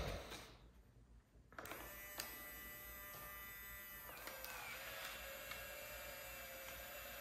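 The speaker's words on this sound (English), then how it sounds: "I'm gonna demonstrate how it ejects" A Hasselblad Instax Square film back powers up and its motor ejects a used film pack, a quiet click followed by a steady whirring buzz that runs several seconds, close and alone.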